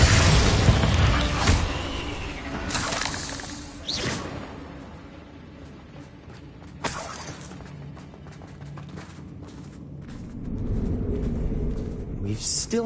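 Bombarda spell explosions in Hogwarts Legacy land as several loud booms with whooshing bursts, close and heavy, the first blasts strongest and more rumbling near the end.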